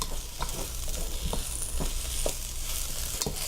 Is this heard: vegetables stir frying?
yes